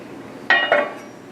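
A metal lid settles onto a cooking pan over a moderate flame, two quick close clinks a fraction of a second apart, then quiet.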